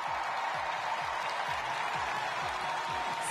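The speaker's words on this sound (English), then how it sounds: "Big cheer for the Korean." Arena crowd at a men's singles free skating competition applauding and cheering, a steady dense roar of clapping that holds evenly throughout.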